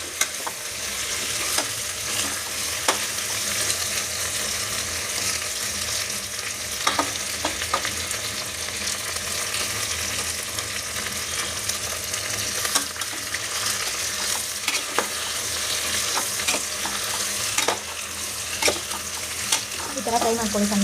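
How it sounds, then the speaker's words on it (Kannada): Brinjal pieces fry and sizzle steadily in oil in a pan while being stirred, with scattered scraping clicks of the spatula throughout; no talking is heard. "ಇವಾಗ ಸ್ವಲ್ಪ ಫ್ರೈ ಮಾಡಿಕೊಂಡು ಈ ಥರ ತಿರುಗಿಸ್ಕೊಳ್ಳಿ."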